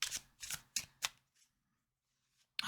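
A tarot deck is shuffled by hand in four quick riffling bursts, each a crisp flutter of cards, then a pause with faint handling before another riffle begins, close and quiet.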